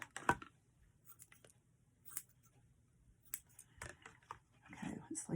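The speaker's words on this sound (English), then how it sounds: "Grab some scissors." Scissors snipping while a gingerbread decoration is readied for hanging, with a few quiet, sharp cuts and clicks scattered among soft handling noises up close.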